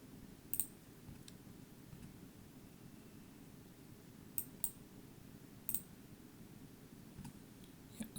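A computer mouse clicks inside VirtualBox during a Windows Server 2022 setup, a few sharp isolated clicks scattered over a quiet low hum, some in quick pairs.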